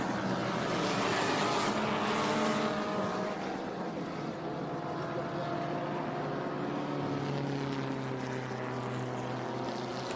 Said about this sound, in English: Hearing a beautiful sound of one of the Trans Am cars just lighting up his engine